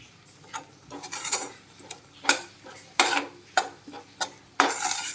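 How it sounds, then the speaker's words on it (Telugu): Spices, turmeric among them, frying and being stirred in a pan for a raw banana masala curry, with a steady soft sizzle broken by repeated scraping strokes and clinks of a spoon against the vessel, close up with no talking. "మొత్తం బాగా ఫ్రై చేయండి"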